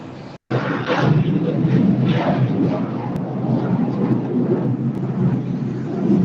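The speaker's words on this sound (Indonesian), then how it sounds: "pesawat sedang lewat di rumah ibu" A loud, steady broadband roar of an airplane passing close overhead, sustained throughout with a brief dropout near the start.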